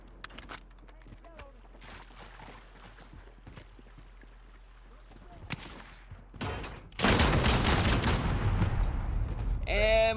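An AA-12 automatic shotgun in Modern Warfare, loaded with explosive rounds, opens up after scattered game clatter and clicks, then unleashes a loud, sustained roar of rapid fire and blasts through the final seconds.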